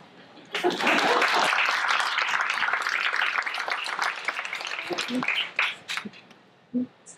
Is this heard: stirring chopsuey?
no